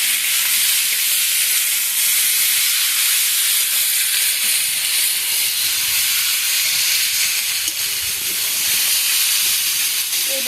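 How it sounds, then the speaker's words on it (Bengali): Spicy chicken pieces dropped into very hot oil, giving a loud, continuous, close sizzle and hiss that stays dense and steady throughout with no talking. "এবার এগুলো সব তেলের মধ্যে দিয়ে দেব। তেলটা খুব গরম হয়েছে"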